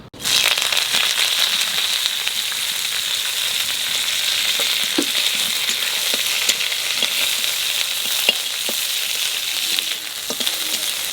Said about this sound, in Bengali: কারি পাতাটা একটু ভেজে নেব।